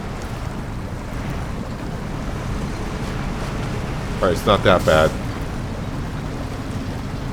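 In SnowRunner, a heavy truck pushes into a river, its wheels churning a steady wash of water against a constant low engine rumble, with a brief burst of splashing in the middle while someone talks.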